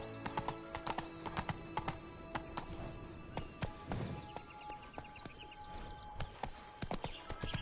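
Hooves of the horse Roach clip-clop in a steady trot through The Witcher video game, close and fairly loud over a busy game soundscape with music and faint ambience.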